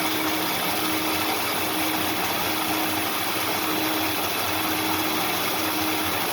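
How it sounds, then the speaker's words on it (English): A 5.7 Hemi V8 fitted with a newly installed intake manifold idles roughly and unevenly, a steady mechanical rumble with a constant hum running through the whole stretch and no voices. "we're going to find out that our idle is totally screwed up"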